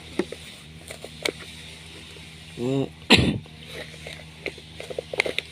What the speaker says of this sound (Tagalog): Sorry po, inuubo ang person.